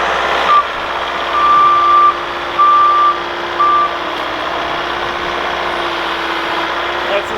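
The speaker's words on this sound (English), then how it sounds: "That's your first scoop ever in a skid loader, isn't it?" A skid steer loader runs with a steady engine drone while its reversing alarm sounds several spaced beeps, loud and close, under some talk.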